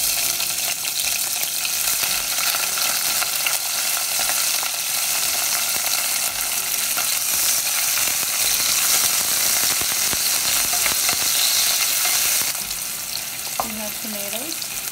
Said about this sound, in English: let's start sauteing our garlic and